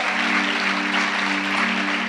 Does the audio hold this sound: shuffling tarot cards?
no